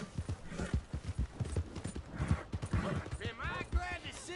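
Horse hooves clip-clopping in the video game Red Dead Redemption 2, a close steady rhythmic series of hoofbeats, with a voice speaking over them.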